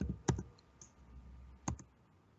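Keys tapped on a computer keyboard while entering a number in AutoCAD, a few soft, close clicks in two small clusters against a quiet background.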